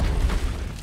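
A Confringo fire spell from Hogwarts Legacy blasting, a short dull boom with a rumbling burst that fades out within a second.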